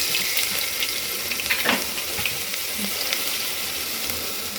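Ginger-garlic paste goes into hot oil already holding mustard seeds, dried red chillies, cloves and asafoetida, a tempering for masoor dal. A dense, steady sizzling hiss runs throughout with no talking.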